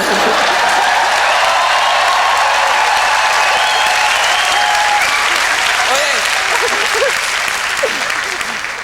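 A large crowd cheers and applauds, a loud continuous wash of clapping and whooping that holds steady, then tapers slightly near the end while voices and whistles rise through it.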